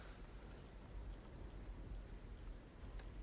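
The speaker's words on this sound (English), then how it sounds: "the rain keeps falling even there's a roof on top of my head like this" Steady rain falls in the game Fallout 3, a dense continuous hiss with low rumble beneath and no voices.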